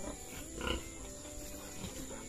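Several pigs grunting and oinking on a farm, short snuffling grunts with one louder burst near the start, steady low background noise and no speech.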